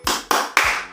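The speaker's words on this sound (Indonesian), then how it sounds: "kita tepuk semangat dulu" Three sharp, evenly spaced claps from children doing the 'tepuk semangat' clapping routine ring out loud and close in a quick rhythm, each with a short ringing tail.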